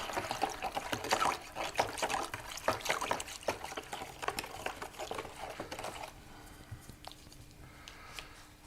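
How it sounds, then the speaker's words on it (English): Etching solution for aluminum intaglio plates being stirred in a container until it dissolves: quick, faint, rhythmic clinks and swishes for about six seconds, then a quieter stretch with a few light taps, and no talk. "you have to stir that up real good until everything dissolves"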